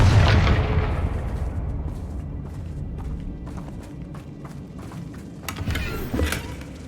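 A Confringo fire spell bursts loudly in Hogwarts Legacy, a heavy boom at the start that decays into a rumbling tail, with scattered crackles and smaller pops following.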